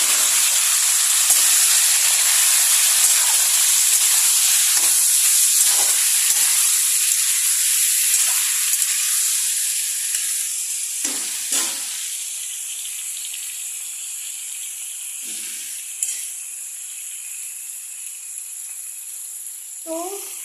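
Boiled broiler chicken and water poured into a hot pan set off a loud rushing hiss of steam and sizzle that slowly fades, with occasional clinks and bubbling over the next twenty seconds.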